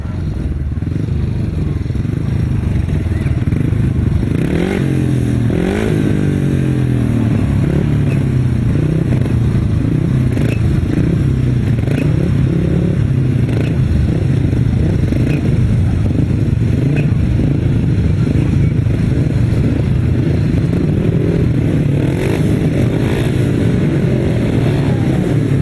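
Solo grasstrack racing motorcycles rev loudly and continuously at a race start, a dense, rising engine roar that stays close and overwhelming throughout.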